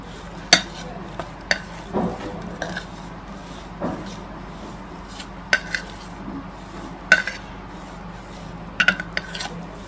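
Oats pakora batter with spices and egg is mixed in a bowl, producing a series of irregular clinks and scraping knocks of a spoon against the dish, close and intermittent over a quiet background.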